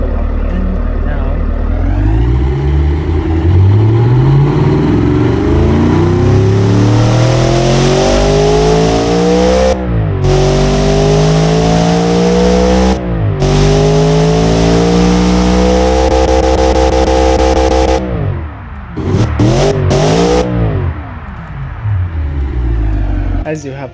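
A V8 ute engine in the game Automation idles, then revs up repeatedly through low and high RPM, each climb rising to a loud roar before cutting off with a gear-shift-like drop, then a few sharp blips near the end.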